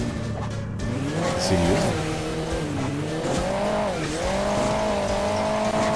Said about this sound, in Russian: раллийное авто сзади меня догоняет